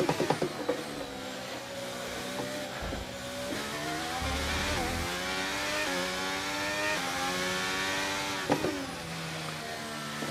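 A Formula 1 car in the F1 23 video game laps a practice session in Italy, its engine droning steadily with rising revs and several abrupt pitch drops at gear changes, loud and close throughout.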